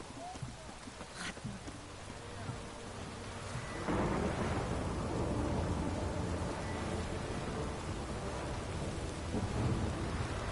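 Rain and thunder in The Witcher 3 video game: a low rumble of thunder rolls in, then steady heavy rain patters continuously, fairly loud and ambient without speech.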